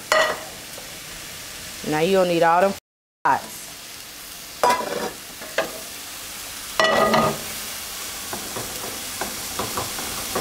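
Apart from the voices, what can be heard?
bacon frying in a pan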